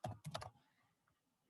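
A quick flurry of three or four computer keyboard keystrokes in a rapid cluster, followed by near silence, close and faint with no talk.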